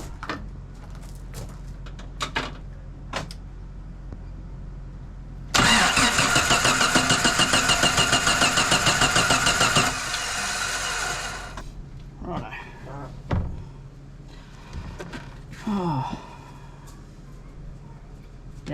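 A Jeep Wrangler TJ engine cranks hard for several seconds in a loud, steady starter whir, then stops without catching, followed by scattered clunks and brief speech nearby.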